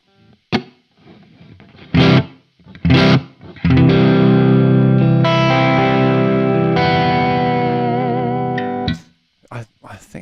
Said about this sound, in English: I think it's the reverb.